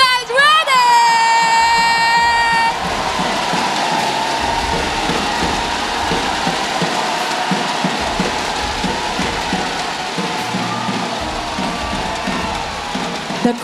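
A packed esports arena at the MPL Malaysia Season 14 playoffs: after a brief rising tonal sting, a broad, sustained crowd roar of cheering fills the space, loud and continuous.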